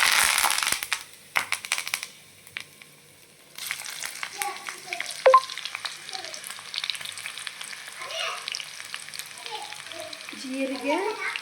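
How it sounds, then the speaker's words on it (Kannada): Cumin, mustard seeds, onion and curry leaves hit hot oil in a tempering, with sharp crackles and sizzling pops scattered over a low hiss, after an initial burst of clatter. "ಈಗ ಒಗ್ಗರಣೆ ಹಾಕ್ಕೊತೀನಿ."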